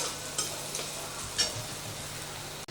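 Bottle gourd peel fries in a pan with a low, steady sizzle, punctuated by a couple of sharp scraping stirs of a spatula; quiet and close, no talking.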